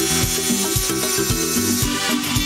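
Dremel Multi rotary tool running close up, a buzzy grinding whir with a rhythmic pulsing as the tool works, brief and steady.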